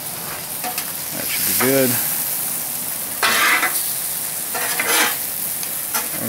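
A scramble frying on a Blackstone 17-inch propane griddle, a steady sizzle with bursts of louder scraping as it is mixed, and a brief spoken remark in the middle.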